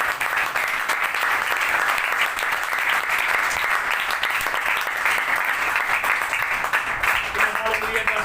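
A church congregation claps in long, continuous applause that stays loud and steady throughout, with voices mixed in under the clapping.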